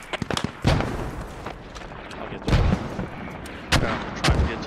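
A heavy machine gun fires in the military shooter Squad during a US-versus-insurgent fight in Afghanistan. Several loud, booming bursts are spaced a second or two apart, with rolling echo between them.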